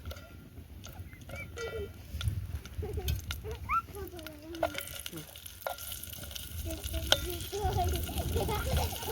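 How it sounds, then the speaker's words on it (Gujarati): Green chillies frying in hot oil on a clay village stove, a steady crackling sizzle running through the whole stretch, with scattered clinks and stirring sounds nearby and occasional faint background noises. "તેલ આવી ગયું છે હવે આપણે પહેલાં તો મરચાં તળી નાખીએ"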